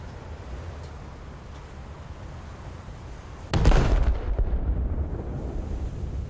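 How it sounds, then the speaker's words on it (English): Anti-aircraft guns open fire aboard a warship in a naval combat video game: a sudden loud burst midway through, then a sustained rumbling barrage over low background engine noise. "Anti-air guns are opening up on something."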